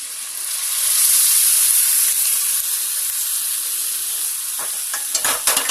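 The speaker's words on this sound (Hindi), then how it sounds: "अब हम जो हमने ये चिकन गलाई थी वो हम लेंगे और उसको हम इसके अंदर पलट देंगे" Chicken tipped into a hot pan of sautéed ingredients for a chicken vegetable soup, sizzling loudly and steadily with a bright hiss, then a few soft scraping stirs near the end.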